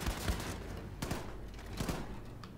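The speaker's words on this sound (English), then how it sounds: "I'm literally in a wheelchair using a machine gun" Rapid machine gun fire in Wolfenstein 2, a dense fusillade of shots with a few heavier thuds standing out, fairly faint and continuous throughout.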